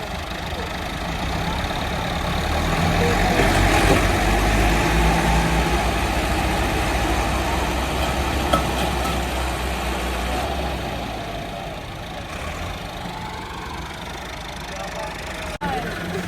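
Four village tractors, including 275 and 285 models on Panther tyres, pull a stuck loaded trolley in third gear, their heavy diesel engines droning steadily and loudly throughout, with voices talking over the rumble.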